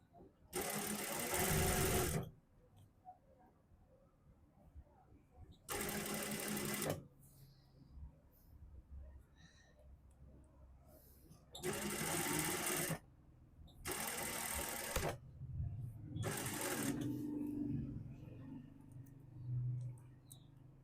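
A sewing machine stitches a suit set in bursts, five loud runs of rapid mechanical whirring separated by quieter gaps where a voice talks and fabric is handled.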